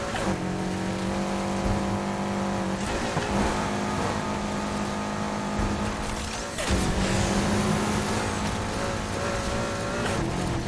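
Sustained engine drone of a car in the racing game Need for Speed Heat, steady and loud with a rising whine that drops and restarts around the seventh second as the car shifts or lands, running throughout with no talk.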